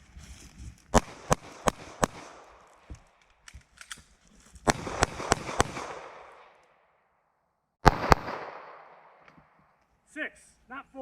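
Gunshots from a cold start shooting drill: two quick strings of four sharp, loud reports, a pause for a reload, then a pair of shots, with clicks and handling noise after.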